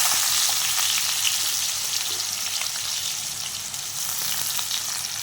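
Thinly sliced onions fry in hot oil and ghee, producing a loud, continuous, even sizzle with faint stirring underneath.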